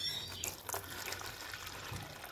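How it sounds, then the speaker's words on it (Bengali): Water trickles and pours into a pet birds' feeding dish, a faint steady liquid wash with a few brief splashes, close by and quiet, with no talk over it. "ওদেরকে আমি দিয়ে দিই একটু জল"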